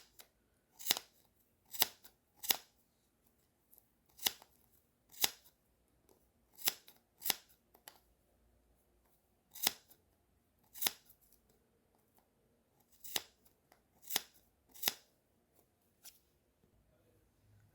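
Scissors snip through yarn while a pom-pom is trimmed for a beanie, a series of sharp, close, crisp cuts coming in irregular clusters with quiet pauses between them, no talking.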